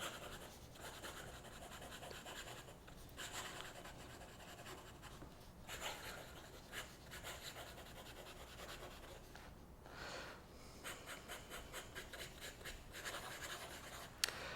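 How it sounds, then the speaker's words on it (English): Maiora Alpha Oroblu fountain pen nib scratching quickly across bank paper in a notebook, a close, continuous dry rasp of fast strokes with brief pauses between words. "I'm writing on this bank paper notebook, and this already feels much smoother"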